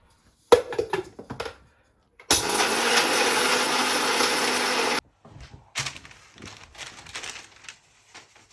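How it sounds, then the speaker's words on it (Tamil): A kitchen mixer grinder grinding roasted coffee beans into powder buzzes loudly and steadily for a few seconds, framed by clattering jar handling and shorter bursts before and after. "நம்ம வந்து மிக்சியில் போட்டு பவுடர் ஆக்க போகிறோம்"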